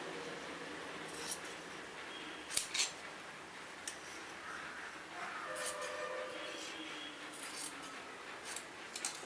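Scissors cutting blouse fabric, a run of crisp close snips and slicing strokes, some sharper clicks of the blades closing, quiet surroundings with no speech.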